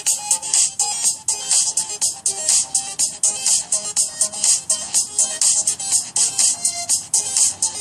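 A phone ringtone played through the loudspeaker of a Xiaomi Redmi Note 4G, a bright repeating electronic melody pulsing steadily and loudly on its own.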